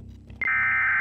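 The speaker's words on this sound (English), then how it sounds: "that EAS sound" An EAS emergency alert tone in the horror game Happy's Humble Burger Barn cuts in abruptly after a quiet rumble and holds as a loud, steady, piercing electronic tone.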